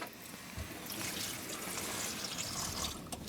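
Tap running into the kitchen sink of a 2001 VW T4 Autosleeper Clubman campervan, a steady faint hiss of flowing water that swells slightly after the first half second and continues alone.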